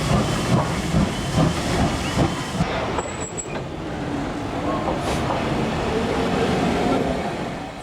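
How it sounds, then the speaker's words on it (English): Black 5 steam locomotive, a British Railways engine, giving off a steady loud steam hiss that continues throughout at close range, with faint voices in the background. "certainly not anywhere near as powerful as this locomotive behind me, which we consider to be the strongest Black 5 ever built"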